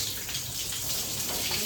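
Cold water poured over a cow during her bath in hot weather: a steady, continuous splashing gush, close and even in level throughout, with no voices.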